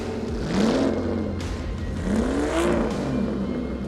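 The engine of a classic Ford race car, the one used for the Ford v Ferrari film sounds, revs in two rising pulls over a steady loud idle rumble, heard close with no talk.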